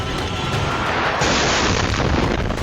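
Dense, continuous rumbling booms from bombing and explosions in the city of Aleppo, Syria, loud and sustained with no clear gaps between blasts and no voices.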